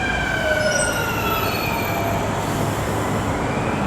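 A Mumbai Metro train at Ghatkopar rumbles past up close, steel wheels whining in high descending tones over a continuous roar, with no voices.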